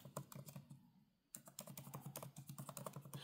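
Rapid, close typing on a MacBook keyboard, crisp key clicks in quick bursts with a brief pause before the clatter resumes.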